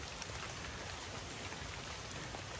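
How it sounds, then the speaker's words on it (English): Rain falls steadily in a jungle, a dense, even hiss that holds constant with no distinct drops or voices. "it's raining."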